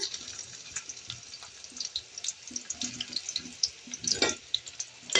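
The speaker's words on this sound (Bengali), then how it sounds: "তো এর মধ্যে আমি দিয়ে দিব আমার পেঁয়াজ কুচি।" Chopped onion dropped into hot oil for dal bhuna, giving a steady, bright, crackling sizzle with sharp spitting pops throughout, close and continuous.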